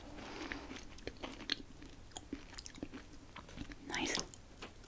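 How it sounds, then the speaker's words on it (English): Close, quiet chewing of a crunchy snack from a Greek food package, irregular crisp bites and crackles with a louder crunching burst near the end, intimate and soft. "Very crunchy."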